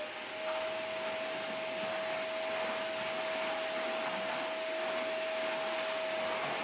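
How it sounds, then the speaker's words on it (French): A household vacuum cleaner runs continuously with a steady whining hum and broad airy roar, constant in level throughout. "C'est la dernière fois que j'utilise cet aspirateur"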